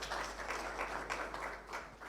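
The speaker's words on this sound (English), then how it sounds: "the president of the GGA deserves a bigger round of applause" Conference audience applauding steadily at an African journalist leaders' gathering, a broad sustained wash of clapping from a large crowd in a hall, moderately loud throughout.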